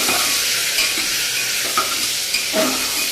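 Mixed vegetables stir-fried in oil seasoned with panch phoron, giving a loud continuous sizzle with intermittent scraping stirs, close by and with no voices.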